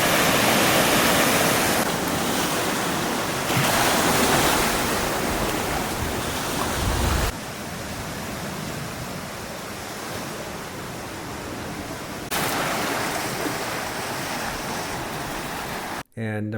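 Ocean waves wash onto a beach on a Seychelles island in a broad, continuous roar that swells and eases in long surges, close and loud throughout, ending in a brief cut.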